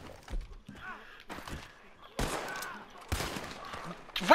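Bursts of gunfire in the Red Dead Redemption 2 video game, a Black Water shootout, come in several loud volleys, with people talking over the shots.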